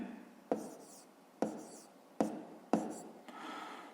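A pen writes on paper up close, with four distinct scratchy strokes each trailing off into a softer scribble, followed by a brief light scratching.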